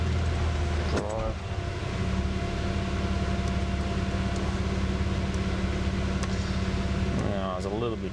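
A Toyota Cressida fitted with a turbo V12 drives, its engine droning steadily up close from inside the cabin, with brief mechanical whirs near the start and end.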